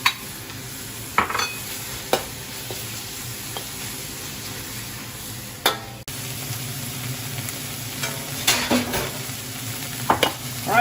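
Kimchi and spinach stir-frying in a hot steel pan, a steady low sizzle with intermittent utensil scrapes and knocks against the metal, fairly quiet and close, no talking.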